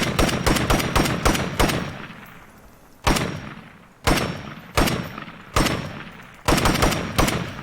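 Rifle gunfire in the video game State of Decay 2: loud, close automatic bursts and rapid single shots in quick clusters, separated by short pauses and ringing decay.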